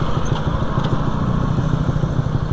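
A Motorstar Explorer 200R motorcycle engine runs with a low, steady throbbing rumble, close and loud, while the bike rolls along a road in Zamboanga City.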